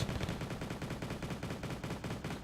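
Rapid 20mm anti-aircraft cannon fire in the Wargame Red Dragon battle game, a dense, steady stream of loud, evenly spaced shots with no talk over it.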